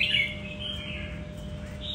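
A caged songbird chirps in a brief, sharp high burst at the start, followed by a steady wash of faint twittering over low background rumble.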